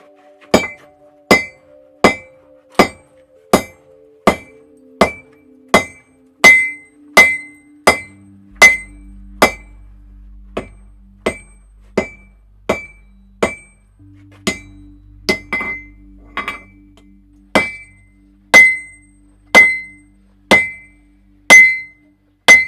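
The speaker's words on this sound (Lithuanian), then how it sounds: "Kadangi yra didelis masyvas kirvio, tai aš pasiėmiau kūjį, kad būtų lengviau nutempt" A sledgehammer strikes a large welded axe blank during forging, giving a long series of loud, ringing metallic blows at a steady, even rhythm, each followed by a brief clinking decay.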